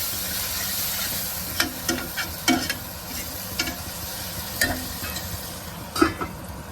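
Spices for a sarson da saag tempering sizzle and crackle in hot oil, with a steady frying hiss and several sharp scraping stirs at uneven intervals.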